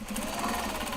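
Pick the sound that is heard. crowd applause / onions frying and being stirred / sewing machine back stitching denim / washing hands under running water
sewing machine back stitching denim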